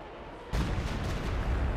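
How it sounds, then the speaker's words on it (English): Artillery barrage in the World War II strategy game Company of Heroes 2: a sudden heavy burst of booming shell impacts that rolls on as a dense, loud, rumbling volley after a quieter moment of battlefield ambience. "We got artillery called in around the center against Isuck's positions there."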